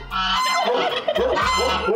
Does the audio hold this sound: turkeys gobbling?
yes